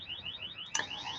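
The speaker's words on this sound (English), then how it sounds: "And now a car alarm's going off." A car alarm sounds outside, its repeating warbling electronic tone cycling steadily with a brief louder burst partway through, moderately distant and without talk.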